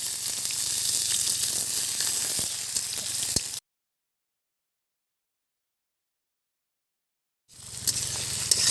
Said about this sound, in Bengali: ফুটে গেছে, এখন পেঁয়াজ কুচি দিয়ে দেব।